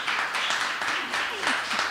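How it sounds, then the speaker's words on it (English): Applause from attendees at an environmental committee's annual meeting: a steady, dense wash of clapping across the whole moment, with a voice briefly heard over it. "can we give them another round of applause?"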